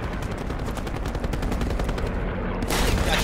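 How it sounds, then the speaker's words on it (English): Rapid automatic gunfire in Call of Duty Black Ops battle royale, a dense sustained burst of close shots that ends in a sharp louder crack. "Getting shot from the side."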